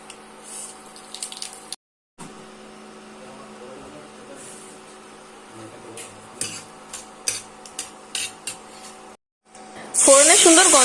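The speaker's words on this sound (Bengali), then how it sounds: "শুকনো লঙ্কা নাড়াচাড়া করে দিয়ে দেবো সর্ষে।" Dry red chillies and mustard seeds tempering in hot oil: a spatula clinks and scrapes against the pan over a steady low hiss, with a sudden loud sizzling burst near the end.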